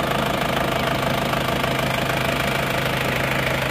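A car engine idles steadily at a workshop after repair, a near, continuous even hum with a fine rhythmic ticking throughout, heard alone without talk.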